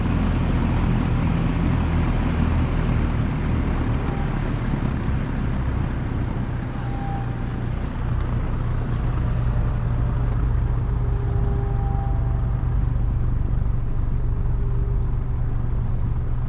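An old box fan runs steadily at a low speed, a constant broadband whoosh of moving air over a low motor hum with a faint tonal whine, close and continuous with no talking.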